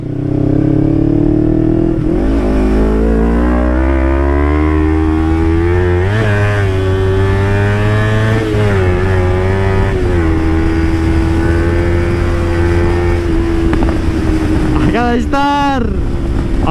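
A sport motorcycle engine revs hard and close, its pitch climbing and dropping across several throttle bursts, with a sharper rev near the end.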